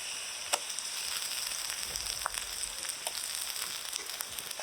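Chopped onions frying lightly in a pan with ground ginger, garlic and onion paste, a steady soft sizzle with occasional sharp pops and crackles, no voices.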